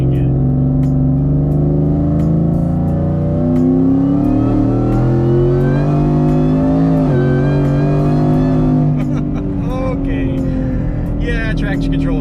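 A Roush Nitemare truck with a swapped Odin engine, fed E85, accelerates on a street, its loud engine note climbing steadily in pitch through several seconds before easing off, with rising tire and traction noise near the end.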